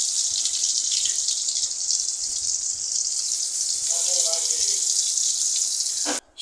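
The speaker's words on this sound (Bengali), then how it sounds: "তেলটা গরম হয়ে গেছে। এরপর কাঁকরোল দিয়ে দিচ্ছি।" Spiny gourds (kakrol) sizzle in hot oil, a bright continuous hiss of frying that holds steady up close before cutting off abruptly near the end.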